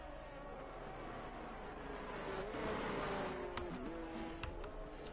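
A Scuderia Ferrari Formula 1 car in an F1 racing game screams past on the Texas circuit, its high-revving engine whine rising, then dropping in pitch as it passes, with gear changes audible near the end.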